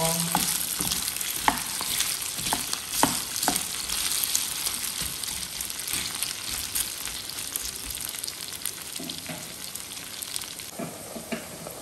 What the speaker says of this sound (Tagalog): haluin hanggang sa maging golden brown itong potato